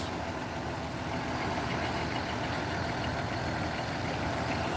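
A 2004 BMW E46 idling roughly with two cylinders misfiring, a steady dense rumble with no talk.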